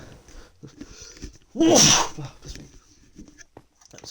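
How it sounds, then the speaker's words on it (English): A single loud sneeze bursts out mid-clip from someone during a Minecraft update commentary, surrounded by quieter murmured sounds before and after. "Just a sneeze there."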